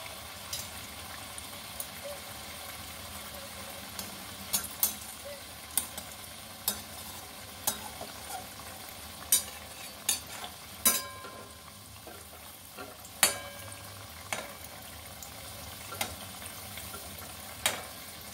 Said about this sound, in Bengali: সবগুলো একটু লালচে লালচে করে ভেজে নেব